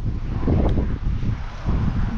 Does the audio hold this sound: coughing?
no